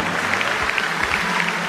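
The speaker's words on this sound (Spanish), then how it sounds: "Denle un aplauso a Cristo, al tiro, al tiro, al tiro" A church congregation claps along at an evangelistic service, giving dense, even applause with faint crowd noise and a low hum underneath, close and continuous.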